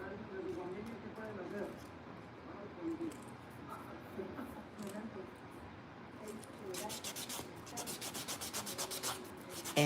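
A faint grinding hum of a small nail drill filing thick gel nails, with rapid buzzing pulses near the end.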